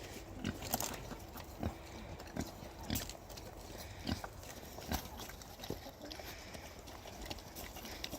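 Pigs on a homestead being fed, with scattered close thumps, snuffling and chewing noises in an irregular rhythm over a steady outdoor background.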